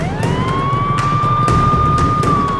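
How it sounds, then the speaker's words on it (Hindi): An ambulance siren wails loudly and close by with a sustained, slowly rising tone over a busy background. "पहले एम्बुलेंस को रास्ता दो।"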